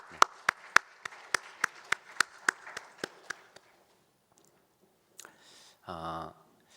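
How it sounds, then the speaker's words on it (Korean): A church youth congregation claps together in unison, about a dozen sharp, evenly spaced claps that grow fainter before stopping, followed by a brief shuffle and a short burst of noise. "하나님 앞에 영광의 박수 올리겠습니다."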